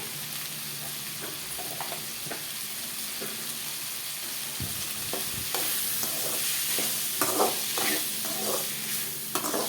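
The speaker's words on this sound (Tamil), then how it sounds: "மஞ்சத்தூள் கொஞ்சம் வரமிளகா இதுதான் கொஞ்சம் வரப்புக்கு போடுறோம்" Turmeric and dried red chillies sautéing in hot oil for mango pachadi, a steady low sizzle with scattered spoon scrapes and stirring that grows a little busier toward the end, no talk.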